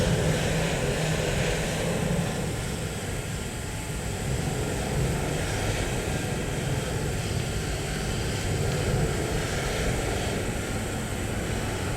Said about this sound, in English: starting engines 1 and 2 in that sequence. Clear 1, 2. Engine 1 starts.